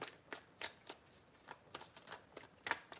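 Tarot cards are shuffled in a series of quick riffling bursts, soft and close, with short gaps between them and no talking.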